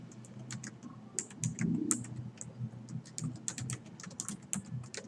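Fingers type on a computer keyboard in quick, uneven bursts of light clicks, close by and fairly quiet, with short pauses between runs of keystrokes.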